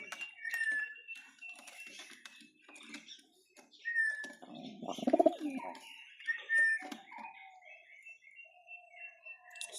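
Pigeons coo repeatedly at close range, soft rolling calls mixed with scattered chirps and other bird sounds over a quiet background.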